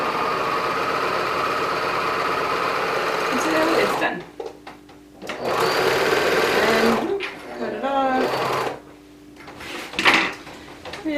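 A serger sews fabric seams with a steady, rapid mechanical whir that runs continuously at first, then breaks into several shorter bursts with pauses between, close and fairly loud.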